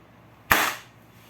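A folded paper popper snaps once with a single sharp, loud crack close by, decaying quickly into quiet with no talk.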